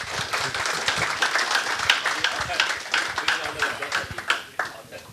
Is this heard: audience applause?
yes